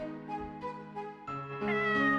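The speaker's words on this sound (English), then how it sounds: "With its head tilted slightly to the side, it let out an adorable meow." A cat in the video game Corpse Party: Book of Shadows lets out a single drawn-out, rising meow, clear and close with no other sound.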